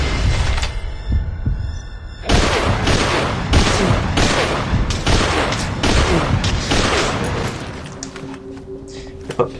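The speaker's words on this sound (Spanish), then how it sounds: "Los tiros seguro que los han oído" Rapid bursts of gunfire from Metal Gear Solid V: Ground Zeroes, a dense fusillade of loud, close shots that runs for most of the stretch and fades out near the end.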